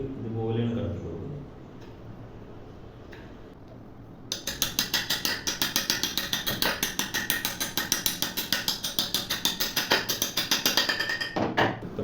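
Bolt being driven and tightened into a wooden window frame, starting with faint handling noises, then a loud run of rapid, regular ratcheting clicks from about four seconds on, close up.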